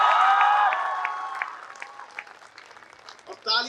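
A live audience of students claps at a Hindi comedy show, with sharp whistles ringing over the applause before it gradually fades out.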